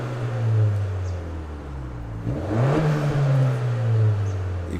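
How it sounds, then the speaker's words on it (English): A 2023 Acura Integra with a 1.5 liter turbo engine accelerates, its steady hum rising in pitch with a turbo whoosh, heard from inside the car with the windows down. "You can hear a little bit of turbo swooshing, especially from this small powertrain."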